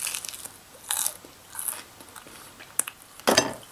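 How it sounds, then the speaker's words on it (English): Crunchy oven-baked food, cooked on the oven shelf with a tray beneath, bitten several times in close, loud crisp bursts separated by quieter pauses, the final bite the heaviest. "And you get that crunch."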